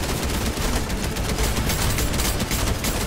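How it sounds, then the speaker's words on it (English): Dense gunfire rattles through a Fortnite match, rapid overlapping shots in continuous bursts, loud and close, with no talking. "Somebody else is shooting."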